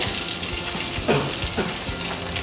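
Thick hamburg steak patties frying in a pan over low heat, a steady close sizzle with soft crackles and a few brief pops, no talk.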